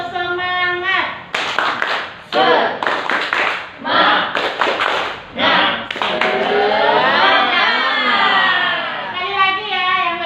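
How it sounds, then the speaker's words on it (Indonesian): A group at a positive-discipline training session performs the rhythmic 'tepuk semangat' cheer, bursts of unison hand claps in a set pattern alternating with loud chanted voices, close and lively. "Kita tepuk semangat dulu ya."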